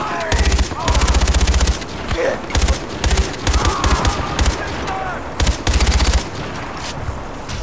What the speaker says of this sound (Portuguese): Olha eu atirando os amigos aqui